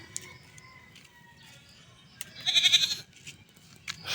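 A goat gives one loud, wavering bleat lasting about half a second, close by, amid quieter outdoor background sounds and brief faint noises.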